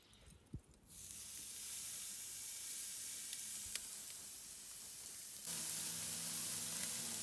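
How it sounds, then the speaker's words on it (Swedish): Beef sizzles on a charcoal grill as the meat goes onto the embers: a loud, continuous hiss that swells after a faint start and grows stronger again near the end, with no talking. "nu har ju då glöden lagt sig så att man ska kunna börja lägga på lite kött"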